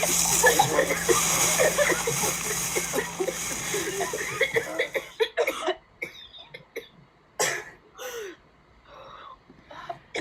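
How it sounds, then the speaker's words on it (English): Several harsh coughs burst out in an uneven cluster after a stretch of busy, noisy background, with gasps between them, loud and close. "Everyone in the room begins to have a coughing fit"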